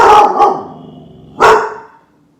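A dog gives two loud, close barks about a second apart, growly and harsh as it reacts to a car, followed by quiet.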